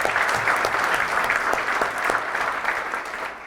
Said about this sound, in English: we gave our Regent a phenomenal applause